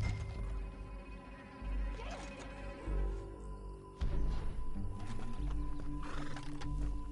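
Horse hooves clip-clopping in Red Dead Redemption 2, a steady galloping rhythm with snorts and whinnies over a low rumbling ambience, moderately close and fairly quiet with no talk.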